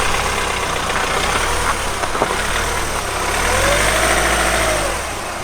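A 4x4 reverses through Thetford Forest off-road terrain, its engine running steadily at mid pitch with a gradual rev swell near the end, continuous and close, with no talk over it.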